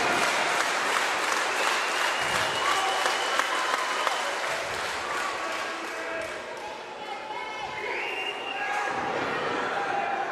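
Crowd at a live wrestling show cheering and applauding, steady loud roar of claps and shouts throughout, with a commentator talking over it.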